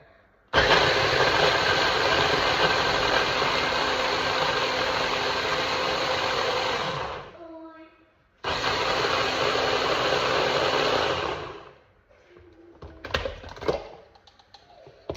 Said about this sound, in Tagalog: i-blend na natin sa ating mahiwagang food processor